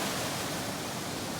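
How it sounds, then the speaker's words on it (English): Steady broadband rush of a waterfall tumbling over rock formations on the Pinchot Trail, a constant, full roar heard close up with no voices. "we were blessed with this waterfall right here"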